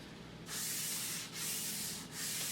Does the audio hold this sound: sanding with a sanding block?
yes